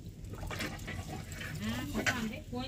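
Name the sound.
water poured into the pot for chicken rice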